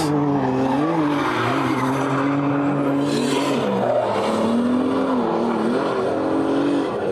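Drift cars in a Driftland Class 2 battle squeal their tires loudly and continuously while the engine revs and wavers through the slide, close and dominant throughout.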